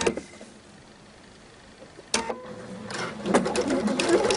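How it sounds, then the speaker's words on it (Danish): A home sewing machine runs a straight stitch through gold ribbon on a skirt, with a quiet pause, then a sharp start and a rapid, close mechanical whirring that builds toward the end. "så kører jeg med en almindelig stikning her"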